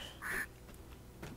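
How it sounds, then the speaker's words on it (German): A hostile bird swooping to attack in the Great Wall level of the video game Tomb Raider II Remastered gives a single short harsh squawk over quiet game ambience, with no voice over it. "Und dann kommen auch gleich schon die süßen Vögelchen, die uns hier ein Auge aushacken wollen."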